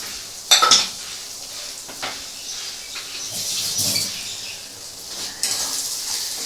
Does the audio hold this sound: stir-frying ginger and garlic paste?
yes